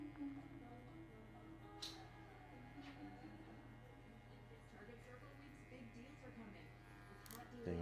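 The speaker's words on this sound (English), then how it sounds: "You got a clipper in the closed position." Hair clipper with the blade in the closed position buzzes steadily while cutting a high skin fade, a low electric hum with occasional snips, faint beneath someone talking.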